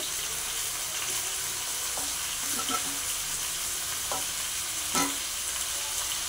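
Ground spice paste sizzling and being stirred in a pan for a cauliflower and egg curry, with a steady frying hiss and a few scattered spoon scrapes and clinks.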